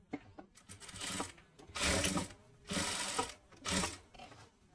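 A sewing machine stitches satin fabric for a gown, running in four fast whirring bursts separated by short pauses, close and clear, with no talking.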